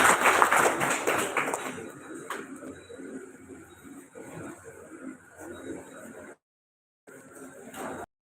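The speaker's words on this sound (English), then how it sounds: "A round of applause, please." Audience applause at a World Safety Day event, a dense burst of clapping that peaks at the start, thins into scattered claps, drops out briefly, then returns faintly.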